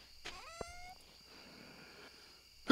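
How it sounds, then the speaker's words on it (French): A single short meow from a cat in the video game Stardew Valley, sounding over quiet ambient background, followed by a brief louder noise at the end. "Oh, j'ai entendu un chat."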